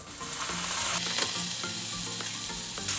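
Cooked pasta is tossed with stir-fried ingredients in a pan for a cream-free original carbonara, making a loud, steady sizzle with busy stirring and scraping close by.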